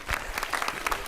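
Brief applause for a winner of an up-cycled fashion design contest, light and scattered, with a few claps standing out over a thin crowd wash.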